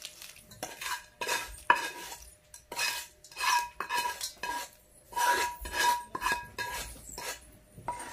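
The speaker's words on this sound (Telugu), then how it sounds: "వేస్తున్నానండి పచ్చడి." Chutney being added to a pan and stirred while making vurimindi chithrannam: repeated scraping strokes of a spoon against the metal pan, in short rhythmic bursts with brief pauses, close and fairly quiet, with no talking.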